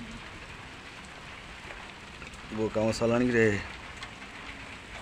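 Steady rain falls across an outdoor village weekly market, a continuous close hiss of drops on surfaces, with a short stretch of people talking over it midway.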